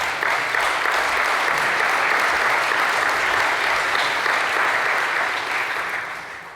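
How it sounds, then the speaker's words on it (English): Warm audience applause at the opening speech of the safeND 2025 conference, a steady wash of many hands clapping that holds evenly and tapers slightly at the end. "I think that's a warm applause"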